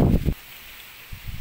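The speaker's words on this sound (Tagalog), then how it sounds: "Grabe ang hangin." Gusts of wind rush and rustle through moringa leaves in a garden in two loud bursts, separated by a brief quieter lull.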